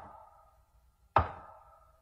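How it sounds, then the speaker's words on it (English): A single loud, sharp knock on wood at the head of a bed lands in near silence over a faint low hum, with a short ringing decay, as a radio drama sound effect. "Then I heard 3 slow, loud, distinct knocks at the head of my bed."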